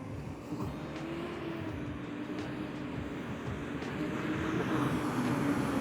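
An old MAN truck pulls out of mud under added throttle, its engine giving a steady, loud low drone that builds slightly toward the end, with no talk over it.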